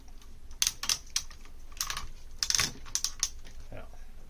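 Ratchet joints on a TFC Toys combiner action figure, an Abominus homage, snap in sharp, close clicks, arriving in quick irregular bursts with short pauses between them.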